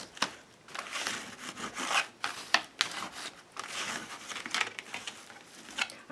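Vegan leather being creased and folded with a bone folder for a journal cover, a close run of crinkling, rubbing and pressing strokes with brief sharper snaps, moderately loud and without speech.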